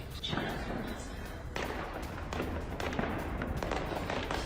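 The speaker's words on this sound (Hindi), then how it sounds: "सुरक्षा बलों ने प्रदर्शनकारियों पर फायरिंग की है।" Gunfire at protesters during unrest in Tehran, captured in news footage: a series of loud, sharp cracks and thuds over a constant background rumble, with some voices audible underneath.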